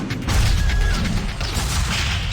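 A heavy crash and rumbling burst from an explosion in the tower-defense game Sanctum 2, loud and close, followed by a lingering low roar and scattered mechanical clatter.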